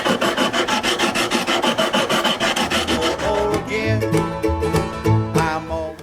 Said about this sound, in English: I'm taking my flat, hard sandpaper board and I'm working it down a little bit